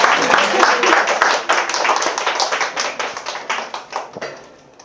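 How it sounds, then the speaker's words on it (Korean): An audience at a reading forum for real estate agents claps steadily for several seconds, a dense patter of many hands that thins and fades toward the end. "박수 한번 주세요."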